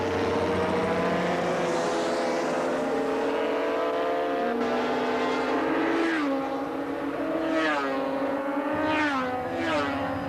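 Race cars at the 1983 Bathurst 1000 howl past one after another, their engine notes rising and sliding in pitch as they accelerate and shift. The sound is loud and continuous.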